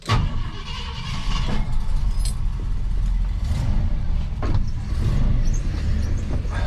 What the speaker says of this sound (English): Listen to that beautiful engine.